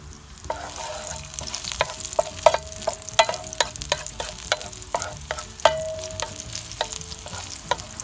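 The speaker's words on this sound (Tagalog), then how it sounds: "una ilagay natin yung garlic" Garlic fries in oil in a pan after fish has been cooked in it, giving a steady close sizzle broken by repeated clicks and scrapes of stirring, with no voices.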